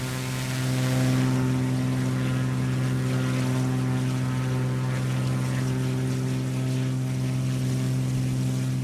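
A Piper Arrow Turbo propeller aircraft engine drones steadily in Microsoft Flight Simulator 2020, a loud, continuous tonal hum with a strong whirring prop buzz that stays even throughout.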